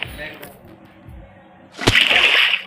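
Minecraft water bucket being emptied and scooped back up in quick succession, a short watery splash and slosh bursting out near the end after quieter game background.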